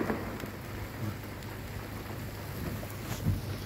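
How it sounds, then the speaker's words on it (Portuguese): Heavy rain pours down during a windstorm in Ivaiporã, Brazil, seen from a bridge over a low-lying area, with a steady broadband hiss of rainfall and faint thunder rumbling underneath, with no voices. "Olha que aguaceiro que virou."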